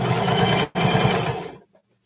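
A sewing machine stitching the hem of shorts whirs loudly and steadily, breaks off for a split second, runs again, then winds down and stops, leaving quiet.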